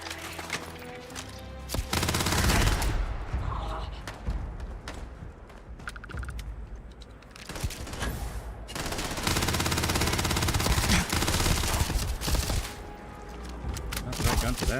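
Gunfire in Starfield, dense bursts of rapid automatic shots with heavy thumps, loud and close, running in long stretches with short lulls, while someone talks in between.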